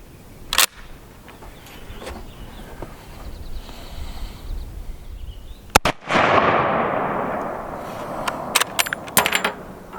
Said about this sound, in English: So I'm going to start shooting with the 500 yard or meter battle sight